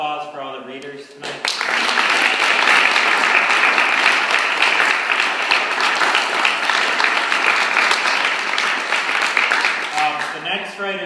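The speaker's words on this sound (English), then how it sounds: "We hear one more round of applause for all the readers tonight." Sustained applause from an audience at a readers' showcase, loud and steady for about eight seconds before tapering off, with a bit of talk at the start and end.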